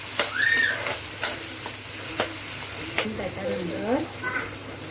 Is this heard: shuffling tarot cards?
no